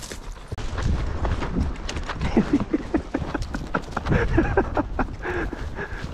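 Horse hooves clip-clopping on the ground during a ranch ride at Knott Creek Ranch, a close, uneven run of thuds and knocks lasting several seconds, with faint voices now and then.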